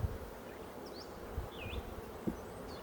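Honeybees buzz during a beehive inspection, a soft, continuous hum with a few faint bumps and clicks from handling and no talk.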